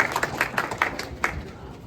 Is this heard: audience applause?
yes